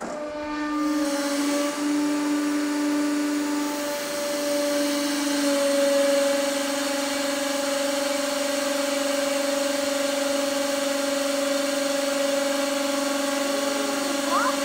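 A hydraulic press fitted with a welded spaghetti tool presses down on three bars of salt. A loud, steady mechanical whine and hum holds throughout, with sustained tonal drone and no distinct cracks.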